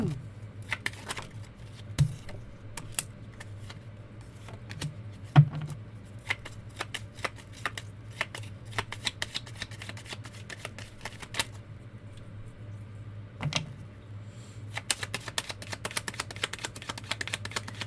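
Continuous riffling and patter of tarot cards being shuffled, close up, with repeated crisp snaps and flutters over a steady low hum.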